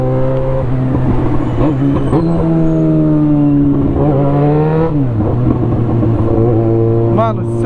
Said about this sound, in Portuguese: Olha o barulho gostoso, só o cano.